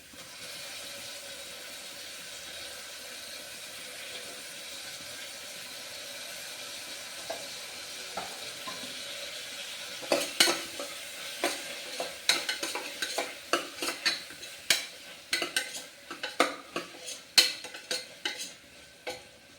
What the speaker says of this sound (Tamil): இஞ்சி பூண்டு பச்சை வாசனை போயிட்டு தக்காளி போட்டுக்கலாங்க.